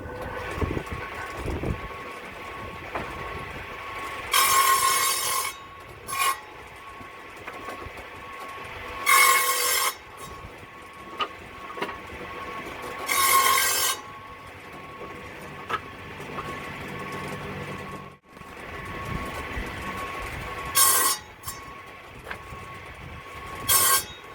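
An old saw bench being set up for firewood in a backyard cuts through wooden planks, with several loud, harsh bursts of blade biting wood rising over a steady running hum, separated by quieter gaps.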